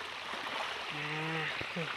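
Rain-fed water flows over a field edge, a soft continuous rushing trickle heard at a distance and fairly faint, with a voice speaking over it.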